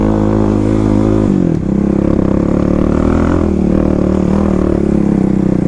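A Kawasaki KLX351 dirt bike on new Tusk Dsport tires runs loud and close through mud, its engine droning steadily with a brief dip and rise in revs as the throttle comes back on.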